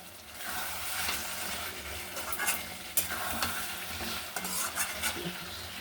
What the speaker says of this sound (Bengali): সুন্দর করে একটু কষিয়ে নেব।